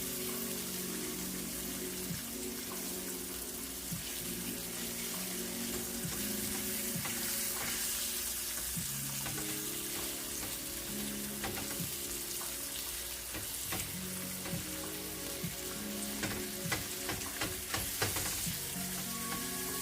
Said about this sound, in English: she's frying it nice and well